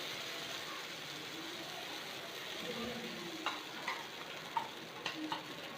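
Banana dosa batter sizzles steadily on a hot tava, a dense continuous frying hiss with a few small crackles and ticks near the end; no talking.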